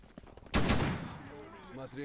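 A loud gunshot burst in the video game Stalker GAMMA, followed by a rumbling, echoing tail with faint background sounds.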